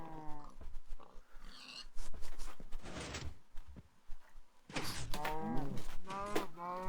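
A cow in Minecraft, on an FTB Ultimate modpack 1.4.7 server, gives a few loud, close moos, one at the start and a longer cluster near the end, with quieter game noises in between.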